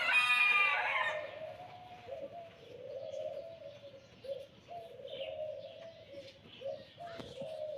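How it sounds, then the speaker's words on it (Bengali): A chicken calls in repeated short, faint bursts against a quiet outdoor background, with a brief louder cry at the start. "মুরগি ডাকিস কেন? আবার আরেকটা ডাক দে।"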